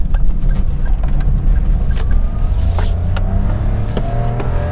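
A Proton car swings through a tight U-turn power slide, its engine droning loudly and rising in pitch as it revs, with heavy wind buffeting and road rumble throughout.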